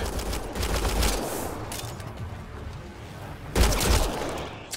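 Rapid bursts of automatic gunfire in a Mass Effect Andromeda combat scene, dense crackling volleys that ease off midway and then flare again loudly, with little talk.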